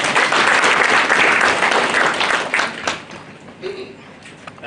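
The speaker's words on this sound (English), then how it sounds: "Can we clap for him, please?" Audience applause at a university inaugural lecture, a sustained crowd clapping that stays loud for about three seconds, then thins out and fades, with faint voices in the room.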